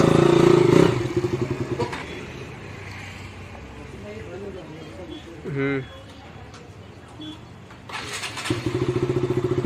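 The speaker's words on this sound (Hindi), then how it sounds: "ओहो चालू गई, चालू गई बाइक।" A KTM motorcycle engine fires up and runs, a loud rough burst at the start, then uneven revving and clattering amid outdoor noise before the engine roars steadily again near the end, with people talking throughout.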